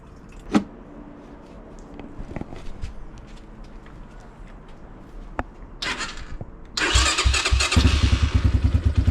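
Clicks and faint shuffling, then a Suzuki SMX 250 motorcycle engine cranks briefly and catches, settling into a loud, rapid, close-up running rhythm.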